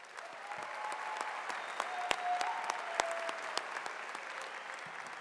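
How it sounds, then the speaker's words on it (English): Graduation crowd at a high school ceremony applauding steadily, a dense, sustained wash of many hands clapping at moderate distance with a few sharper individual claps standing out. "Please give yourselves a nice round of applause."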